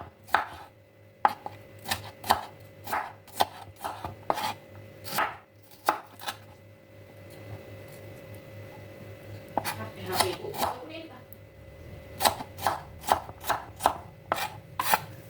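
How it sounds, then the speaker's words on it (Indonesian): A knife thinly slicing a knob of ginger on a cutting board, producing crisp, rapid chops in quick bursts separated by short pauses, close and clear, with faint background hum. "Satu ruas jahe diiris-iris tipis, ini untuk mengurangi bau amis pada pindang tongkol."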